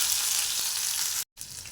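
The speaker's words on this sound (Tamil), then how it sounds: "பேனில் நெய்யும் எண்ணெயும் கலந்து ஊற்றிக்கிறேன். கடுகு நல்லா பொரிஞ்சதும் உளுத்தம்பருப்பு, இஞ்சி, பச்சை மிளகாய்," Mustard seeds, urad dal, ginger and green chilli fry in a pan of mixed ghee and oil for poha, a loud steady sizzle with a brief break in sound before the crackle resumes.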